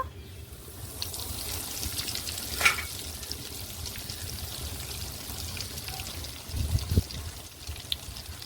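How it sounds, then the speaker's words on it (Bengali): Eggplant slices for lacha begun fry sizzle in hot oil in a pan, a soft steady crackle that swells into a louder burst of spitting near the end, with no voices. "এই বেগুনটা একইভাবে এই তেলেও ছেড়ে দেব।"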